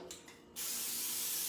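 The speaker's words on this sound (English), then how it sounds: "I'm going to spray the bottom" Cooking spray hisses steadily from a can onto the bottom of an air fryer basket before mozzarella sticks go in, a close, loud continuous spray following a couple of faint taps.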